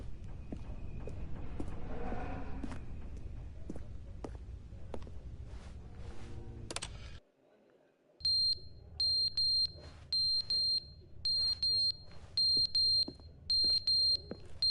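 Beeping alarm in the video game The Stanley Parable, a high electronic tone sounding in short repeated bursts at a steady rhythm after a quiet moment, clear over a low background hum.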